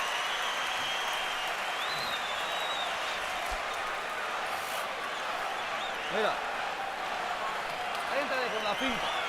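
A large boxing-match crowd roars and cheers steadily with scattered shouts and whistles rising above the din, loud and continuous throughout.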